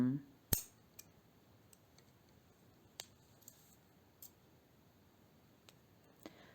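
Scissors snip knitting yarn several times at irregular intervals, crisp small clicks close by against a quiet background.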